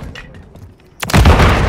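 A grenade blast in the shooter game Call of Duty: Modern Warfare, a loud boom that erupts suddenly after quiet ambient rumble and holds as a heavy, sustained roar to the end.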